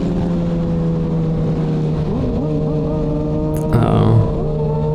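A 2020 Kawasaki ZX6R sport bike fitted with an aftermarket exhaust holds a loud, steady engine drone close by, then briefly revs up with a sharp rise near the end before settling back.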